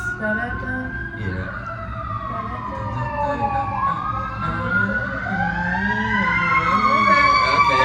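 An emergency siren wails close by, its pitch sweeping up and down loudly over a rumbling engine, with faint talk underneath.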